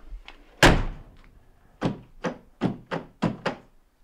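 A sharp mechanical thunk followed by a series of six evenly spaced clunks as a Land Rover Discovery 2 door lock actuator cycles repeatedly, close by and alone.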